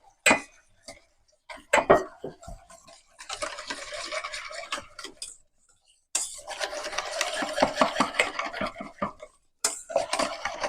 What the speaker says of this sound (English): Whisk it up nice and good.